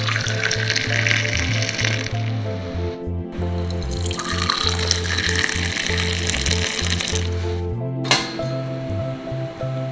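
Hot masala tea with milk is strained and poured, a continuous splashing liquid stream with clinks from the vessel and strainer, close and loud, with brief pauses in the flow.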